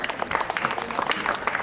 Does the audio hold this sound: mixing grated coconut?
no